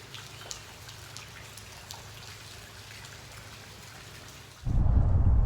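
Soft, steady rain patters with scattered drops, fairly distant, then a sudden loud low rumble takes over at the end.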